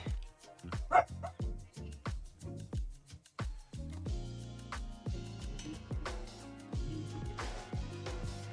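A dog barks repeatedly in quick, punchy bursts, nearby and loud, the barks running almost continuously with a few higher yips mixed in over a noisy background.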